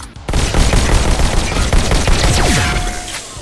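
Rapid bursts of gunfire from the VR shooter game Robo Recall, loud and close, with dense overlapping shots and booming impacts, plus a rising electronic whine near the end.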